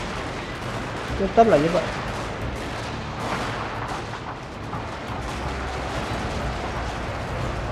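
Gunfire and artillery booms from the strategy video game Fall of the Samurai, dense continuous battle noise with a louder burst early on, under someone speaking.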